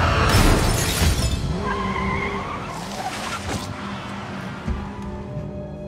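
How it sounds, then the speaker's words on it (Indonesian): A car in a film deliberately rammed into a truck, loud crash with bursting glass and skidding up front, then lingering debris and engine rumble fading over several seconds. "Simon yang sedang mengendarai sebuah mobil dibuatnya sengaja menabrak sebuah truk agar Simon tewas seperti sebuah kecelakaan"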